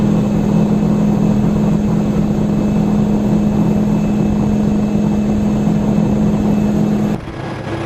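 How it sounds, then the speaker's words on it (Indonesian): A loud, steady front-mounted bus engine drones from close below with a strong low hum, running continuously before dropping slightly in level near the end. "suara mesinnya memang pas di bawah kita, ada di depan"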